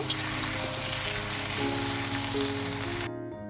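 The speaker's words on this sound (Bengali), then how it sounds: "পেঁয়াজগুলো একটু লালচে করে ভেজে নেব" Onions fry in a pan for a mutton curry, giving a constant close sizzle and crackle with a low steady hum beneath. It ends abruptly and cuts to quiet.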